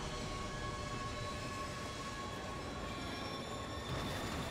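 Subway train passing through a tunnel in The Darkness 2 video game, a continuous rumbling roar with high metallic wheel squeal sustained throughout, loud and steady.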